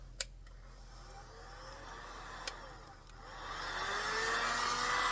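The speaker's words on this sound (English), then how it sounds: "I have a heat gun." A heat gun blows hot air while a turned ornament is finished with dye and shellac, making a steady whooshing roar that swells louder toward the end, with a couple of sharp clicks early on.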